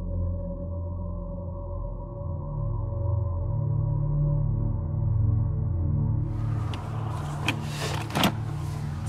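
A new Opel Astra drives on a mountain road, giving a steady low engine and road hum inside the cabin, with a burst of wind and rumbling buffeting near the end.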